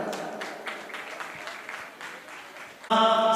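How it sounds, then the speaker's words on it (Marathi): Audience applause at a live stage program of devotional songs, a steady wash of clapping from a crowd that swells into a louder, fuller burst right at the end. "एकदा जोरदार जरा टाळ्या होऊ देत."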